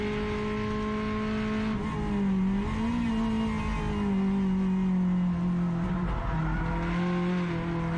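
Race car at speed on the track at Curitiba, its engine a loud continuous onboard drone that pitches up and down as it accelerates and shifts through eight seconds, with no talk.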